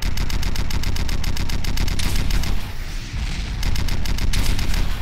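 Rapid automatic gunfire rattles in the video game Red Crucible: Firestorm, loud, evenly spaced bursts that break off briefly, then resume.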